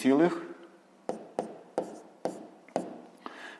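Pen strokes jot down a product in a fifth-grade math exercise: a brief voice at the start, then a series of short, evenly spaced scratches, close and quiet.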